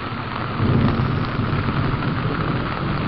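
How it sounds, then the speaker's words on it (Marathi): Heavy rain pours steadily onto a tomato field in a thunderstorm, a loud dense roar that continues throughout, with low thunder rumbling beneath it and no voices. "पाऊस जोरात चालू आहे"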